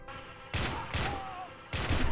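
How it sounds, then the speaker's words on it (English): Anti-tank gun fire in the video game Army Men of War, three heavy, sharp blasts spaced under a second apart, each booming and then trailing off over a low background hum. "It's just shooting his anti-tank gun, look."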